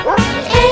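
A cartoon dog barks in a sung farmer's-dog nursery rhyme, two short, loud, close woofs in quick succession, sounding like a voiced imitation of a bark.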